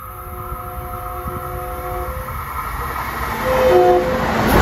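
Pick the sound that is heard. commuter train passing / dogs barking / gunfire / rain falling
commuter train passing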